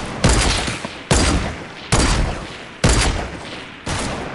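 Gunfire during a Fortnite gunfight: five heavy, loud shots, evenly spaced about a second apart, each trailing off in a long rumbling decay, with no talk over them.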